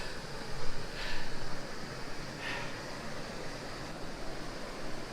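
A waterfall in Bighorn National Forest gives off a steady, broad rushing roar that barely varies, close by and alone with no voices.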